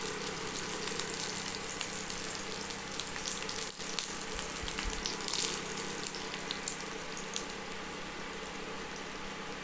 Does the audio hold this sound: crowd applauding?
no